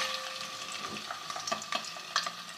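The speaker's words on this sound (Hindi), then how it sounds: "इसी ऑयल में जिसमें मैंने प्याज ब्राउन करके निकाली है, मैं मछली के जो सर हैं उनको फ्राई कर लेती हूँ" Fish heads frying in oil left from browning onions, a steady close sizzle with scattered pops and crackles as they cook.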